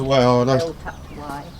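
Pigeons or doves cooing close by in a low, warbling burst at the start, followed by people talking and fainter cooing later.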